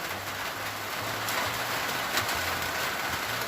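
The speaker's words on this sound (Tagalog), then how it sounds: "It's raining then!" Steady rain falls outdoors in a continuous broadband hiss of drops striking surfaces, with a low engine-like hum running underneath.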